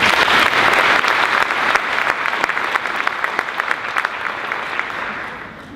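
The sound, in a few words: audience applause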